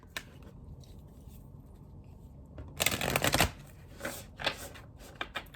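A new tarot deck shuffled by hand close up: soft card flicks, then a dense riffling burst in the middle and a few shorter shuffles, all fairly quiet over a low room hum.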